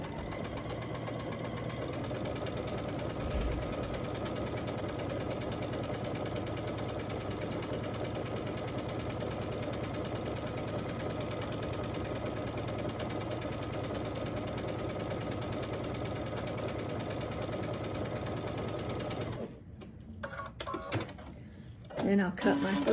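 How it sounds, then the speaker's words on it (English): A home sewing machine runs steadily, stitching a quarter-inch seam on a quilt block in one long continuous hum, close and even, then stops and gives way to soft handling noises and a voice. "bring it to my side of the machine, and stitch a 1/4 inch on the other side of that line"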